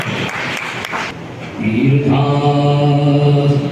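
Brief audience applause at a community award ceremony, about a second of quick, close clapping that gives way to a sustained, droning tonal sound like singing or chanting.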